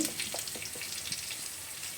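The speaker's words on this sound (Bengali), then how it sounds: "আদা পেঁয়াজ রসুন সব ভালোভাবে ভাজা হয়ে গেছে" Ginger, onion and garlic frying with spices in a pan for a village-style mutton dish, a soft, steady sizzle with faint light stirring, quiet and close.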